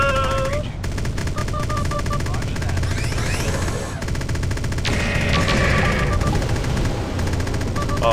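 Ship guns fire in the Freelancer space game, rapid repeating bursts in long rattling volleys over electronic tones and hum, loud and close, with a voice talking through part of it.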